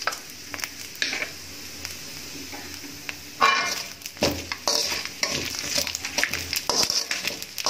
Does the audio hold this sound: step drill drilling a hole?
no